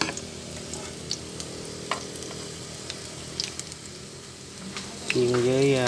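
Battered shrimp frying in fat over low heat, a soft continuous sizzle with occasional small pops and ticks of stirring, and a brief louder burst near the end.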